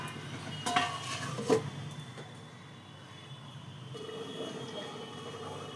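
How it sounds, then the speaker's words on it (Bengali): A plate placed over a cooking pan of chicken stomach: two quick clinks of the plate against the pan, then a soft, steady simmering hiss underneath. "এইবার আমি আবার থালা চাপা দিয়ে দিচ্ছি"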